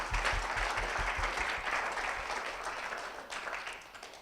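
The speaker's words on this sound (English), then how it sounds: "So let's give a round of applause to our judges." An audience at an innovation fellowship final pitch event gives the judges a round of applause: dense, steady clapping from a room of people that slowly tapers off, with some low thumps early on.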